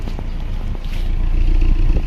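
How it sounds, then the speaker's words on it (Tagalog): Exhaust note of a Toyota Corolla Big Body fitted with a K-series carburetor, a steady low rumbling idle with uneven puffs and light clatter, recorded close outdoors with no speech. "Yan yung tunog ng tambucho niya."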